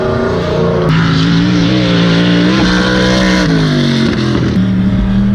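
A race car at a track drives past with a loud, sustained engine roar whose pitch rises and falls as it shifts through the pass, continuous and close throughout.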